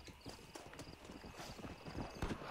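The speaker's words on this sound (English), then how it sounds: "let's call our horse" Horse in the Red Dead Redemption video game galloping closer after being called, steady rapid hoofbeats with a brief whinny, near and moderately loud.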